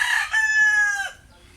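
A single loud rooster crow close by, a strong sustained call that cuts off abruptly, then quiet background.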